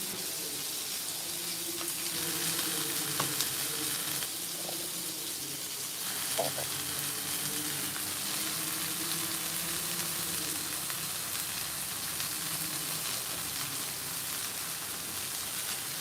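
Velameen fish fries in a pan with a steady, soft sizzle, a continuous crackling hiss that holds at an even, moderate level throughout with a few faint clinks.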